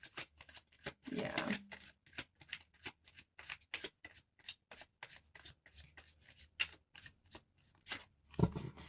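Tarot cards are shuffled up close in a quick run of crisp riffling snaps and flicks, with a brief murmur of voice partway through.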